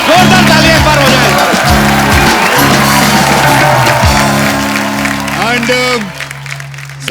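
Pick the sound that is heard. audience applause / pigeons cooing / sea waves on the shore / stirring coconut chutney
audience applause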